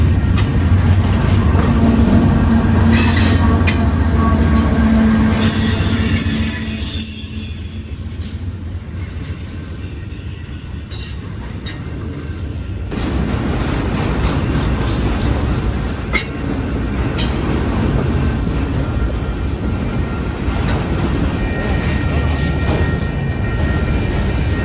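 A long Union Pacific freight train with auto racks rolls through Sacramento, California, a loud continuous rumble of wagons with squealing wheels and clacking over rail joints, briefly quieter midway before the roar builds again.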